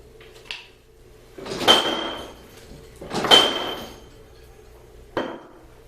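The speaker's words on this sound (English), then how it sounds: "I'm just cranking this by hand, so let's see what it does." A power hammer cranked by hand: two heavy mechanical thumps with ringing metallic clatter, a few seconds apart, then a sharper knock; each strike blooms loudly and decays, no talking.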